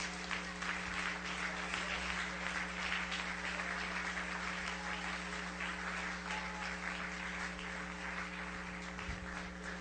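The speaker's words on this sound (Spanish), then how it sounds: "Dale un aplauso a Cristo, que él se lo merece." Continuous applause from a church congregation, steady and dense for the whole stretch, moderately loud with a low hum underneath.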